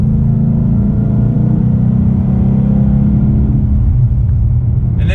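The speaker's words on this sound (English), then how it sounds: "just the sound of that Coyote going through the gears." A 2019 Ford Mustang GT with its Coyote V8 engine and exhaust runs loud and close, a steady heavy rumble through the gears that eases slightly near the end, with no voices.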